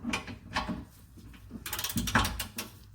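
A ratchet wrench tightens a bolt on the rear suspension of a 2018 or later Honda Accord, giving short bursts of quick metallic clicks with brief pauses between strokes, close and moderately loud.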